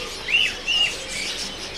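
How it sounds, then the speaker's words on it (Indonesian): A perkutut cemani (zebra dove) at a bird market gives two short, high calls in quick succession over a steady background hiss of market noise. "Geser ke jenis burung perkutut untuk yang cemani teman-teman."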